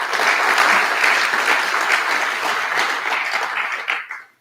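Audience applause at the PGDay Lowlands 2025 PostgreSQL conference, loud, dense clapping from a full room that holds steady for about four seconds, then quickly dies away.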